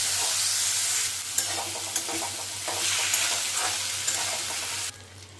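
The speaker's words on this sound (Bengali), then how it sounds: "এবার যে চালটা আমি রেডি করে রেখেছিলাম সেই চালটা দিয়ে ভালো করে এটা একটু ভাজা ভাজা করে নেব" Rice is stir-fried in a hot pan with whole garam masala spices for pulao, giving a continuous close sizzle with regular scraping strokes of a spoon before it suddenly quiets near the end.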